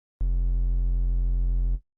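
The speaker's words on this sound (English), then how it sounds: "Lastly, we have a triangle wave." A triangle wave oscillator tone from the Vital software synth, sustained and steady for about a second and a half, starting and stopping cleanly, alone and fairly loud with a soft, hollow, slightly buzzy character.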